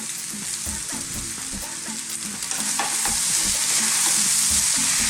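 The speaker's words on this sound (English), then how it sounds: "let's break it down and stir it in" Cooked basmati rice and potatoes are stirred in an oily pan for a vegan aloo fried rice, with a continuous sizzle under rhythmic scraping of a spoon, growing slightly louder midway, heard close with no speech.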